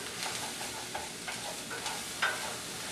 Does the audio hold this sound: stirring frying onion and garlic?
yes